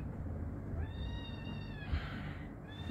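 A house cat meows repeatedly in drawn-out, rising cries over a steady low background hum, with a second meow starting near the end.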